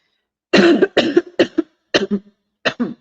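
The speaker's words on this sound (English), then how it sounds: "Coughing a lot." Several sharp, close coughs from one person in two or three quick clusters over about two and a half seconds, with short silences between bursts and a hint of throat clearing, on an immigration news live talk stream.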